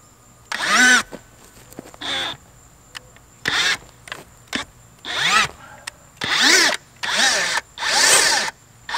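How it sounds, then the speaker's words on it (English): A power auger drills a post hole into the ground for a fence post, its motor whining in repeated bursts of about a second each, starting and stopping in uneven pulses with brief quiet gaps between. "So I used the power auger and I drilled down a bit."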